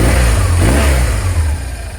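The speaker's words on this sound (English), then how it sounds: "The BMW 1200 boxer engine is very reliable, very solid, easy maintenance." A 2008 BMW R1200GS adventure motorcycle's 1200 boxer engine runs loud and close, a deep throbbing rev that holds steady, then eases off toward idle.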